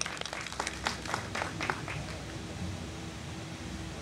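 An audience at a Pakistani medical conference session in Nankana Sahib district gives brief, fairly distant applause that is fairly faint, with the clapping strongest in the first two seconds before fading into room noise.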